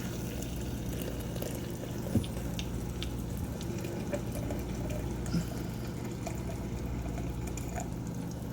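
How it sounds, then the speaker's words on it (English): Water pours from a kettle into a French press in a quiet, continuous stream, faint and steady, with a couple of small clinks. "Gonna get my water kettle, add some water to it."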